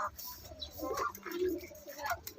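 A racing pigeon coos in low, throaty bursts at close range, a few rolling calls over faint background noise.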